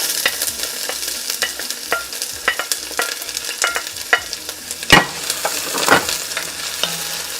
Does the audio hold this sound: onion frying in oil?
yes